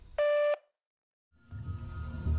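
A single short electronic telephone tone sounds as a call ends automatically, followed by a pause of silence and then a low murmur of background noise.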